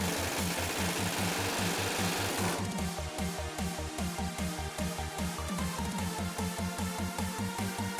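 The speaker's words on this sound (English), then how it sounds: "We needed to pry the drag link off with air tools since it's tightly attached to the pitman arm." Pneumatic air tools hammer and pry a tight drag link off the pitman arm of a 2017 Ford F250/F350 Super Duty, a rapid steady chatter of repeated impacts close up and loud, with no speech throughout.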